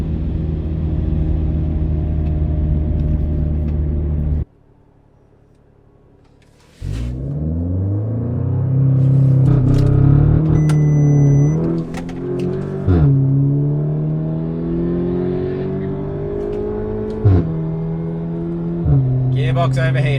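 Audi S3 8V launching down a quarter-mile drag strip, loud engine revs climbing through several gear changes after a short quiet pause, with gearbox overheating mentioned and voices heard over the run.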